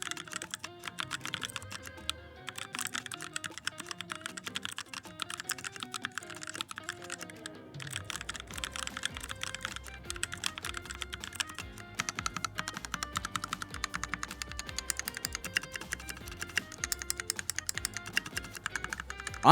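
Steady typing on a modified mechanical keyboard with softened, muted keystrokes, a fast continuous patter close by with no voices.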